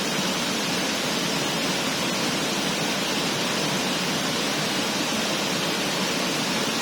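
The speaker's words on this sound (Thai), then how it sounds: "นั่งฟังเสียงน้ำตก" Steady, dense rush of falling water, loud and continuous with no breaks, like standing close beside the third tier of Huai Mae Khamin waterfall in Kanchanaburi, Thailand.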